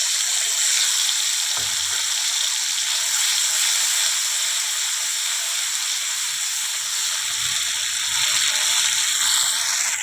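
Mustard paste stirred into tomatoes frying in a pan for a katla fish curry, a steady bright hissing sizzle with one soft knock early on.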